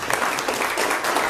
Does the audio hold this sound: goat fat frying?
no